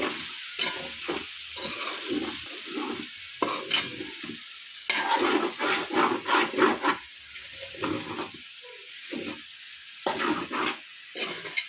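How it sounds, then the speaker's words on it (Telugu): Small potatoes frying in a pan with coriander are stirred with a utensil, giving repeated scraping and rubbing strokes over a steady close sizzle, alone with no voices. "ఇది ఆలుగడ్డ మనకి అడుగు పడుతూ ఉంటుంది, కలుపుకుంటూ ఉండాలి."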